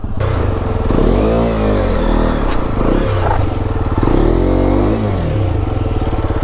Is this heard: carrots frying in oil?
no